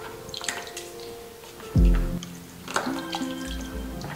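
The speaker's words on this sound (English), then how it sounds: "we're going to squeeze all of the water as much as possible" Wet paper pulp is squeezed in a dollar-store strainer, giving soft squishy sounds and a sudden burst of draining, dripping water partway through, followed by lighter trickles, close up.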